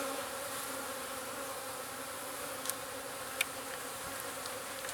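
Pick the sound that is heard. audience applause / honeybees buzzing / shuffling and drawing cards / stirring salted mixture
honeybees buzzing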